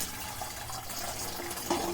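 Borax dissolved in water, with undissolved borax left to settle out in a cup, is poured into a sprayer. It makes a short, close, steady trickle and splash with a slight rise in pitch toward the end.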